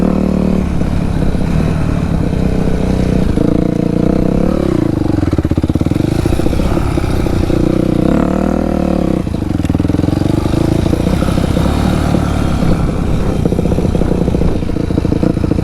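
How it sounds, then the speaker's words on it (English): A dirt bike engine revs loudly and continuously in a backyard, its pitch rising and falling as the throttle opens and closes, close to the listener throughout. "This bike is pretty fun if you know how to ride it."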